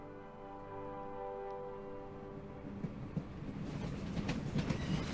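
A train rolls along its tracks in The Lion's Song, opening with a low steady hum that builds into loud, rhythmic clickety-clack wheel beats and rattling carriage noise, with no voices.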